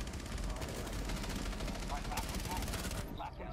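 Automatic gunfire in Rainbow Six Siege, sustained rapid bursts of shots close and loud over roughly three seconds, with excited talk over the shooting.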